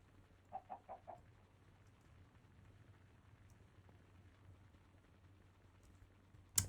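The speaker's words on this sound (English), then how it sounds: "we have a place to keep the chickens" Chickens in the Minecraft video game give a quick run of four soft clucks, faint against a low steady hum, then the scene stays quiet until a sharp click at the end.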